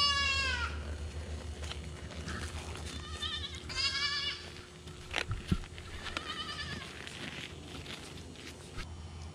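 A young goat on antibiotics bleats repeatedly from close by, wavering cries spaced over several seconds amid shuffling footsteps and a low steady hum.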